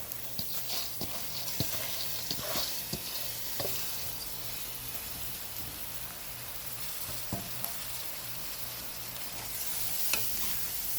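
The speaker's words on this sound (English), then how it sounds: "Now we're going to add 4 cups of rice, washed and drained." Washed rice is stirred into onion, garlic and curry powder frying in a pot, giving a steady sizzle broken by scraping stirs and light knocks throughout.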